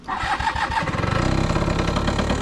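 A 1983 Yamaha CV80 two-stroke scooter engine cranks briefly and fires up, settling into a fast, buzzy, close-up idle with a rapid even pulse; no voices.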